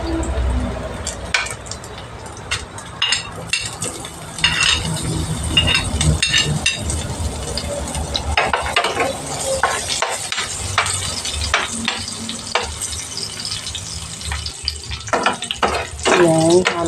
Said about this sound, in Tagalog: Ayan, mag-gisa na tayo ng sibuyas at bawang.